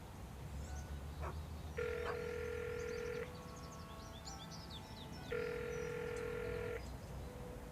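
Two steady electronic ring tones from a telephone call in the video game Broken Sword 5, each lasting about a second and a half with a pause between, over faint background ambience and chirping.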